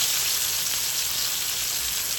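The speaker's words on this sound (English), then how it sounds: "That's sizzling." Bread for a pambazo Mexican sandwich sizzles loudly in hot oil, a dense continuous crackling hiss close up with no voices.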